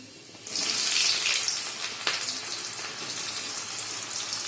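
Chopped garlic and onion hit hot white oil in a kadai, erupting into a loud, steady sizzle that holds for several seconds, with one sharper crackle midway.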